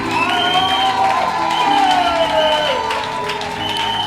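A church congregation at a Vessels of Honor evangelistic gathering in Abidjan, Ivory Coast, cheers and applauds loudly and steadily throughout, with whoops and shouting voices mixed into the sustained roar.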